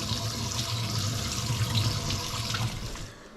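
Lentils being rinsed under a running kitchen tap for a quick lentil soup, giving a steady, close splashing water rush that fades slightly at the end, with no talk.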